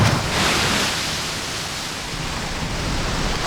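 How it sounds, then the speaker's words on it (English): A surging ocean wave crashes over coastal rocks where barnacles cling, a loud continuous roar of surf and wash that swells at the start and rushes steadily on without any voices. "Completely hit by the wave."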